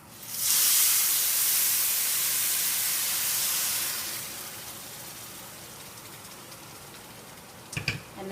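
A blended liquid mixture poured onto browned rice in a hot pan, bursting into a loud close sizzle that fades gradually to a softer simmer, with a few utensil clatters at the end.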